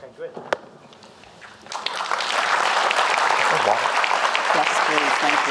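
Audience applause at an evening forum on immigration and activism, starting with a few scattered claps and swelling into sustained, dense clapping from a large crowd.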